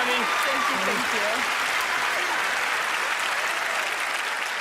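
A studio audience at a magic show applauds in a steady wash of clapping, with a voice speaking briefly over the start.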